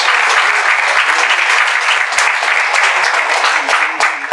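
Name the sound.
congregation applauding in church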